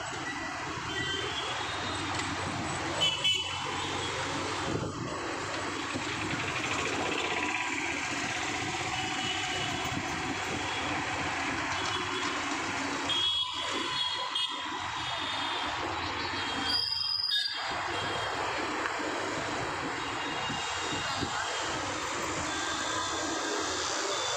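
Vehicles rolling past close by, a loud, steady rumble and rattle that fills the whole stretch, with a couple of brief dips and clanks partway through.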